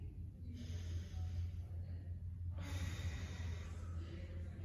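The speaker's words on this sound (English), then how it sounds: "One more big breath here." A deep breath during an upper-body stretching exercise: one long inhale, then a longer exhale, close and steady over a low background hum.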